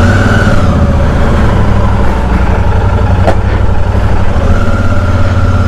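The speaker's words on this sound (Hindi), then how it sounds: "खैर भाई हम बाइक को लेकर चलते हैं इसके परफॉर्मेंस रिव्यू करने के लिए" A Royal Enfield Super Meteor 650 cruiser motorcycle engine idles steadily and loudly up close, with a constant low throb and no talking.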